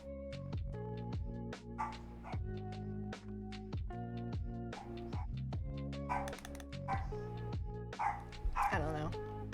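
A pet dog barks in a quick, repeated string of sharp yips and yaps. The barking comes loud and close, mixed with a backdrop of music whose notes drop in pitch.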